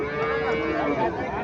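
A native cow moos in a single sustained, close call that fills the whole moment, with some faint background voices at a cattle market.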